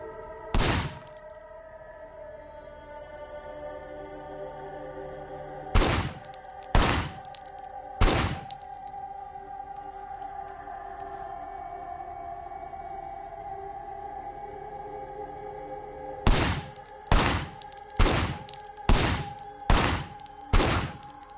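Gunshots in the video game Sleeping Dogs: three sharp bursts in the first half, a quiet stretch, then six evenly paced shots near the end, each cracking loudly over a steady musical drone.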